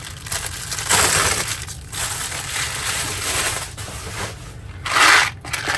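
Small glass fuses rattling and crunching around inside a package as it is shaken and handled, a continuous gritty shuffling with a couple of louder surges close by.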